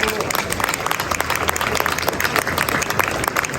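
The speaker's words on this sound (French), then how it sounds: "vous pouvez les applaudir." Applause from a crowd at a food and cuisine fair for a group of young apprentices from Martinique, dense steady clapping throughout with voices mixed in.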